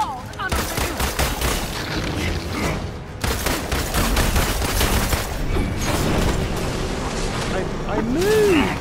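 Dense rapid bursts of gunfire fill the Marvel's Avengers video game scene, loud and sustained, with voices shouting and talking over the shooting.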